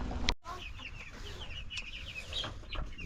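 Broiler chicks in a farm shed chirp continuously in a dense, high-pitched chorus, with a brief sharp knock near the start and steady low background rumble.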